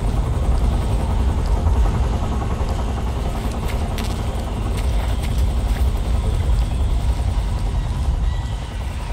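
Helicopter in the video game Metal Gear Solid 3: Snake Eater, a continuous loud rotor and engine drone holding steady throughout with faint higher clicks midway.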